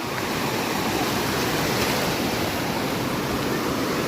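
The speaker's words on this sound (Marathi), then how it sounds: "एक लाट आली" Sea surf washes continuously at Tarkarli beach, a dense, loud roar of breaking waves close by, with wind noise and no speech.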